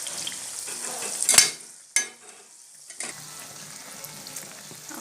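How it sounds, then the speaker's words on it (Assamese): Bora fritters frying in a pan of oil give a close, steady sizzle, broken by a sharp clatter and a few utensil knocks as they are turned and pressed, with the frying hiss softening between the handling sounds. "এনেদৰে অকমান ভাজিবলৈ দিব।"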